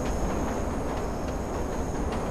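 Rumbling train noise in the Watch Dogs video game during train surfing, a steady loud roar with a faint high whine and periodic clacks, heard alone.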